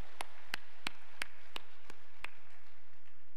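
A church congregation at a revival meeting at Osanri Prayer Mountain claps in unison for God. Seven sharp, evenly spaced claps ring out at a steady beat, then stop.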